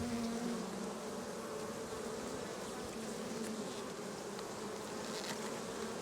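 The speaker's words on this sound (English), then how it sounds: "So lots of bees," Dense, steady buzzing of many bees inside an opened flow hive colony with no queen, continuous and close throughout with a few brief louder passes near the microphone.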